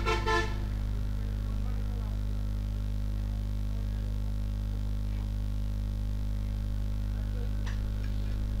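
A rewound GFC fan coil motor powered up on a 220-volt supply gives a steady, even electrical hum that holds unchanged throughout, with a few faint clicks over it.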